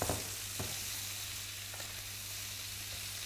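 Peppers added to caramelised onions in a pan for a chicken tagine give a steady, close sizzle that holds for the whole stretch, with a couple of faint stirring knocks near the start and no talk.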